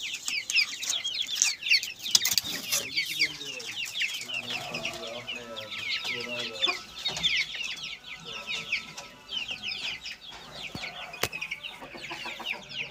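An Aseel hen of the Methi Sawe line clucks in short repeated bursts close by, over a constant bed of high, rapid peeping that runs throughout.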